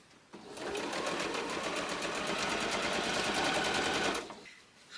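A sewing machine runs steadily for about four seconds while chain piecing quilt fabric, a fast rapid needle rattle, loud and close, starting and stopping abruptly with no talking over it.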